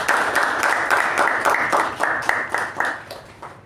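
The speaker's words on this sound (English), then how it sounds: "Let's give them a tremendous round of applause" Audience applause at a club meeting, a steady patter of many hands clapping at fairly close range for several seconds, dense at first and then thinning slightly toward the end.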